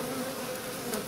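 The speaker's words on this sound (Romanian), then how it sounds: "Ia uitați cum pe cuțit albina e agitată, foarte agitată." A very agitated honey bee buzzes on a hive knife during a failed queen replacement, a dense close steady whine filling the moment without pause or voices.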